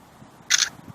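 A single short, crisp shutter click from a Kitvision Edge HD10 action camera, close by, against a quiet background.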